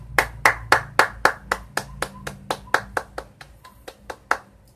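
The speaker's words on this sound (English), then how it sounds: "give Anson Low a round of applause." Hands clap in a steady round of applause, about a dozen sharp, evenly spaced claps from a single nearby person, loud at first and gradually softening.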